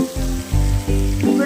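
Moong dal with salt and turmeric sizzles as it is dry-fried in a pan and stirred, making loud, close, rough bursts of frying and scraping in an uneven rhythm. No voices.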